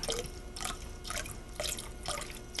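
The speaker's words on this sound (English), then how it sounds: "So now I want to add 3 cups of whiskey, but I want to do this slowly, just whisking it in." Liquid pours and splashes into a bowl of white chocolate mixture while it is whisked, giving soft rhythmic sloshing bursts at close range.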